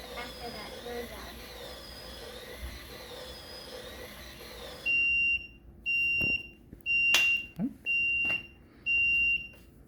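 Microwave timer built on a Raspberry Pi beeping loudly in five long, evenly spaced tones after a stretch of quiet background noise and faint voices.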